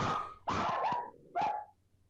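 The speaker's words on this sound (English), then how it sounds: "Your friend Jaeger starts to bark." A dog barking nearby, three short, sharp barks in an uneven rhythm separated by brief quiet, with no talk.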